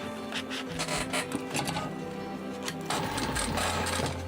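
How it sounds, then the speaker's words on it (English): A sewing machine top-stitches around a small fabric shoulder pad for a floral dino water bottle bag, its rapid motor chatter running in bursts that speed up and stop, close by with no talk. "we're just gonna top stitch round, and we will have our little shoulder pad"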